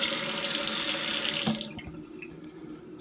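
A kitchen faucet runs plain tap water into a cup with a steady, hissing splash for about a second and a half, then shuts off, leaving faint drips and quiet.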